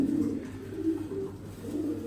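A male racing pigeon at a racing loft coos in a steady, low, throaty drone that continues through the whole moment, close by and moderately loud, with no one speaking.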